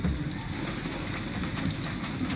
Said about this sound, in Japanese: 雨ガンガン入ってくんじゃない？